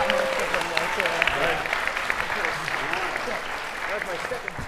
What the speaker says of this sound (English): Can we get left our round of applause for our 4 that are down?